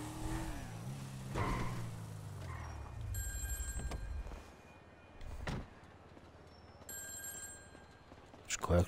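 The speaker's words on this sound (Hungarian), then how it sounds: "Csöng a telefon." In the video game GTA 5, a phone rings in a pattern of repeated electronic trills over the low hum of in-game engine noise, with quieter game sounds in the gaps between rings.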